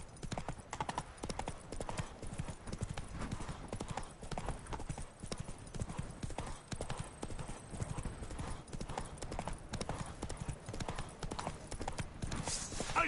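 Hooves of Roach, the horse in Witcher 3: Blood and Wine, clip-clop in a steady, continuous rhythm for the whole stretch, with a faint whinny possible and quiet game ambience underneath.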